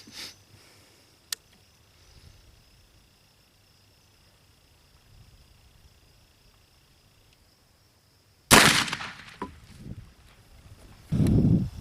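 A percussion rifle fires homemade black powder behind a .530 home-cast round ball with a 15-thousandths spit patch: after a long quiet stretch comes one sudden loud blast, followed by rustling and handling noise.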